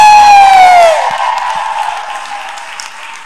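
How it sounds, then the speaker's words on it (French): Women in a church congregation cheer with a long, high ululating whoop that glides downward, then give way to lighter applause and scattered crowd noise fading out. "Les femmes, il faut acclamer."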